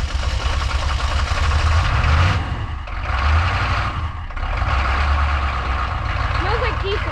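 A diesel truck engine runs at a loud, low rumble that swells and dips slightly, with people talking over it.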